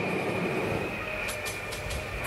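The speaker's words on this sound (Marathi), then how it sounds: "तरी पण ट्रेन 80च्या स्पीडमध्ये चालते" A local train in the RG Train Tech Demo video game runs at about 80, its steady rolling rumble and rail hum continuous and fairly loud, with a few brief bright hissing bursts near the end.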